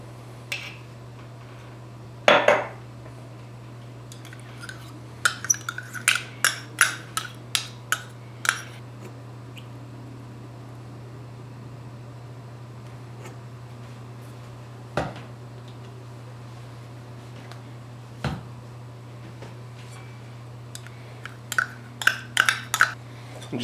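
A honey Dijon mustard sauce for chicken is stirred in a bowl, heard as bursts of sharp metal-on-dish clinks and taps in quick runs with pauses between, over a low steady hum.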